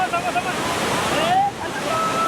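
Lakkam waterfall in Eravikulam National Park, a broad steady rushing roar of falling water close by, with faint whistling bird calls over it.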